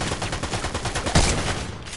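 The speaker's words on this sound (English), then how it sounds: "someone's shooting us" Rapid gunfire in Fortnite rattles steadily for about two seconds, fairly loud and close, with a heavier burst near the middle and no talk over it.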